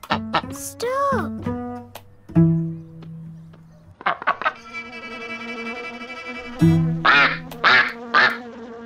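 A cartoon duck quacks in a series of loud, nasal honks, several bursts in quick succession, mixed with bright musical tones and cartoon sound effects.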